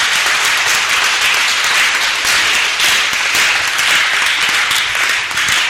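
A church congregation applauding for a father's life, dense continuous clapping with cheering, loud and steady throughout.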